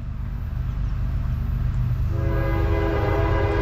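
A CSX freight manifest train rumbles steadily past nearby, with its horn sounding in a sustained blast partway through, loud and continuous.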